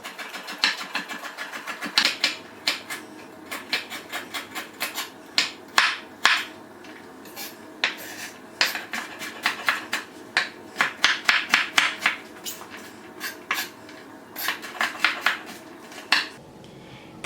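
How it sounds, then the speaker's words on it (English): A knife finely chops carrots on a cutting board, producing rapid, irregular sharp taps in quick bursts, close and crisp, continuing throughout with no talking. "now we're gonna finely chop the carrots"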